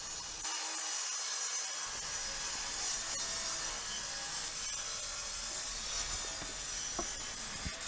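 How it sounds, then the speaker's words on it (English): White oak offcuts from old joinery being sawn into smaller blocks, heard as a faint, steady rasping hiss that continues quietly in the background with no talking. "First I'm trimming them to the smaller blocks, and now marking them down and cutting the shape"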